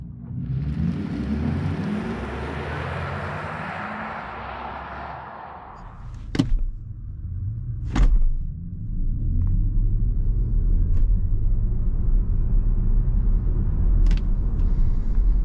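An Audi A6 e-tron performance RWD electric car accelerates hard from 0 to 100 km/h up a steep hill, giving a steady low rumble and rising whir of tyres and wind, with a few sharp thumps partway through.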